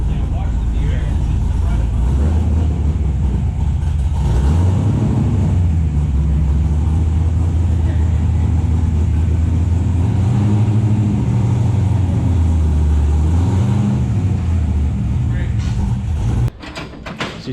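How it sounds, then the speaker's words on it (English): A car reverses slowly onto a dyno lift in a workshop, its engine idling low with a few rising revs that swell and fade, steady and close throughout, ending in a brief clunk. "So you see we got the car backed in"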